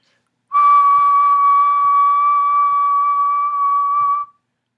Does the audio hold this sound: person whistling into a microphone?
yes